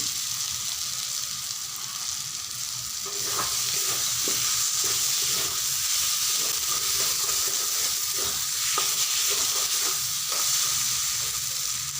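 Potato pieces frying in spiced oil in a pan while being stirred, with a steady sizzle and repeated scraping and clinking of the spoon. The sound is close and continuous, and no one speaks.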